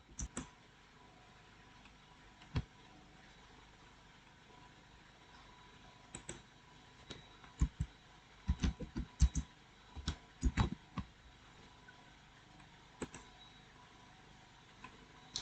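Faint, sparse keystrokes on a computer keyboard typing a command into a command prompt, isolated clicks spread out with a brief flurry of quicker taps midway, quiet and close with no talk.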